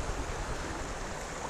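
Shallow water runs over weedy, mossy rocks in Spring Creek, a steady close rushing wash with no other sounds breaking through.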